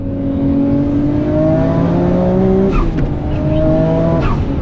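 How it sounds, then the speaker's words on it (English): Modified car engine revving hard through flat shifts, a loud sustained engine drone climbing in pitch with brief breaks at each shift, close and alone without talk. "I'm gonna try flat shift just to make sure it still works."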